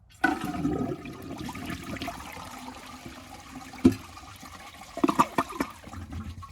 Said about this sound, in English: That was actually a shorter flush